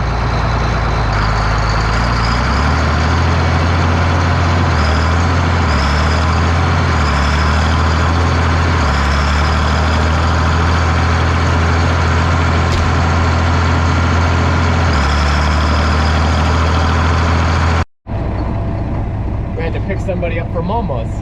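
An old Allis Chalmers 7045 tractor engine runs close and loud, a steady low rumble with a whining drone that shifts slightly, ending abruptly in a different scene.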